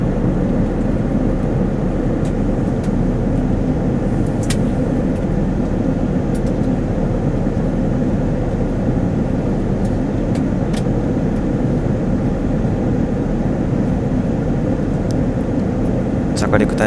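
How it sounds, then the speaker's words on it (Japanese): Airliner cabin on a short-haul night flight to Japan during descent before landing: a loud, constant, deep engine and air roar with a few faint clicks over it. "着陸態勢に入ります。"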